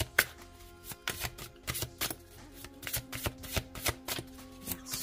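Tarot oracle cards shuffled by hand, a close run of quick crisp riffling flicks in a fast uneven rhythm, soft in level and with no voices.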